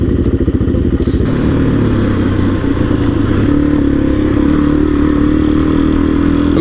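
A Suzuki DRZ motorcycle rides off-road on an adventure trail ride in the ACT, its engine loud and close, churning with steady revs, clatter and a shift in pitch partway through.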